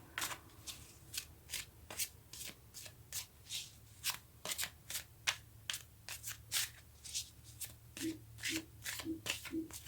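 Tarot cards are shuffled by hand nearby, a long run of quick crisp riffles and slaps in an uneven rhythm, with a few soft taps at the end.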